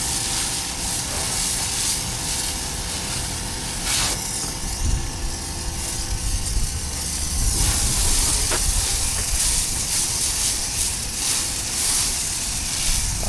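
A Ryobi automatic pressure washer sprays soap foam in a steady, loud hiss that runs the whole time, with small bumps and surges in the stream and no talking.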